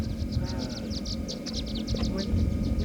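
Rapid, repeated high chirps from a flock of swifts around their nests in a rock face in Utah, busy and continuous, with voices talking underneath and a low rumble of wind.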